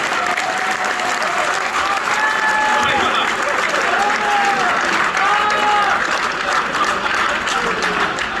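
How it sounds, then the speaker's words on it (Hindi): Loud, sustained audience applause fills a Hindu-themed kavi sammelan poetry gathering in Ghaziabad, with crowd noise and a few faint voices mixed into the steady clapping throughout. "तालियां बड़ी करते हैं एक बार, जोरदार बजाएं"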